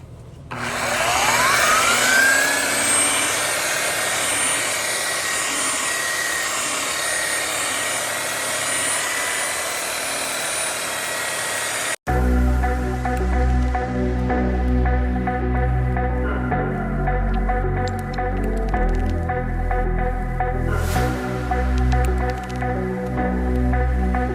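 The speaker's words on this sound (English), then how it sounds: "I'm just using a rotary with a wool pad" A rotary polisher fitted with a wool buffing pad whines steadily as it polishes a metal exhaust, a loud sustained high-pitched drone that cuts abruptly midway to a different, lower tonal machine hum.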